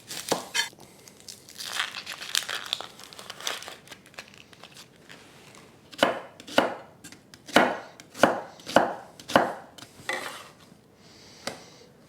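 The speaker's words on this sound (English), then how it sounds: "Then we need 2 onions, just roughly chopped." Two onions are roughly chopped with a knife on a board: scattered chops at first, then a steady run of loud, crisp strikes close by.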